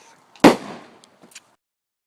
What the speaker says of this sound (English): So when the pressure builds up in the Gatorade bottle, it is like an explosion.